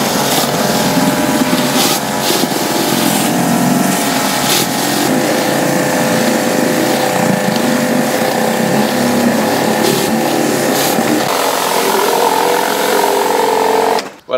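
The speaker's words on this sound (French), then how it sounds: "il ne faut jamais nettoyer le bois au Karcher très près avec la rotative ou avec la lance à fond" A Karcher pressure washer cleans a wooden terrace with a loud, steady motor drone and hissing spray; the pitch shifts near the end before the sound cuts out abruptly.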